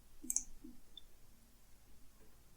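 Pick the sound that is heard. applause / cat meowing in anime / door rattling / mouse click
mouse click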